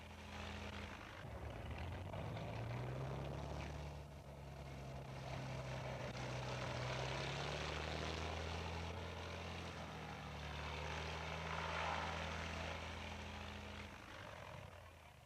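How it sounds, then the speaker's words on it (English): A propeller plane bringing mail and supplies arrives at a jungle airstrip near a Lutheran mission, its engine droning steadily and fairly distant for the whole stretch, with a slowly shifting pitch and no talk. "Twice a week, planes arrive with mail and supplies for the German missionary and his wife"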